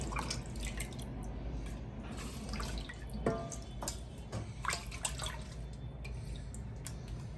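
Water splashes and drips as pieces of fish are rinsed clean in a vessel, with scattered close splashes and drips over a low continuous background and no speech.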